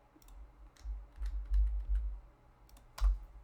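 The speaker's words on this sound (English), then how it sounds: "He's typing." Keys clatter on a computer keyboard during an online tabletop game session, quiet irregular taps building into a denser burst of typing, then a final louder clack.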